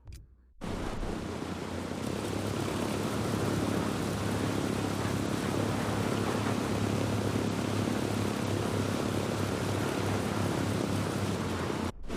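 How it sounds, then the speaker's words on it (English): Steady engine and propeller roar from a plane landing at an airstrip in the video game Ghost Recon Breakpoint. The sound starts abruptly, then holds as a loud, continuous broadband rumble with no talking. "We have unbelievably landed this airplane at the airstrip."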